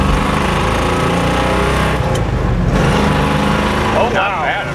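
A 1965 Ford Mustang runs in second gear with a steady, loud engine drone throughout, echoing off a nearby fence, and a voice briefly speaks near the end.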